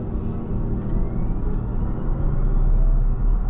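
Inside a Toyota Revo BEV concept electric pickup accelerating hard, a heavy low road rumble fills the cabin while a faint synthetic whine climbs steadily in pitch underneath.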